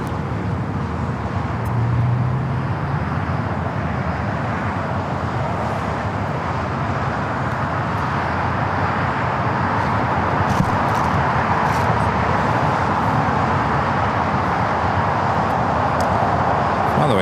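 El Al Boeing 787-9 Dreamliner in retro livery taking off from LAX, a continuous broad roar of jet engines holding steady and loud across the whole stretch with no talk.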